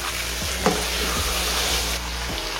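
Chicken pieces fry steadily in hot oil for a chicken korma, a dense continuous sizzle with a few soft clinks of a spoon against the pan, close and alone.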